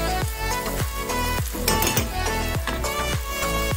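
A cooked chiche barak mixture with coriander sizzles loudly in a hot pan, with a steady rhythmic scraping pulse running through the continuous frying hiss.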